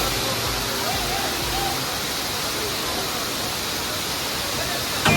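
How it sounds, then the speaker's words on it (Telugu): A large waterfall near Warangal roars in a steady, dense rush of falling water that fills the whole scene from start to finish. "చూడండి వాటర్ ఎట్లా పడుతున్నాయి."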